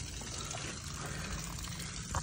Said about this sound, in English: tube right in there is where it's supposed to leak water out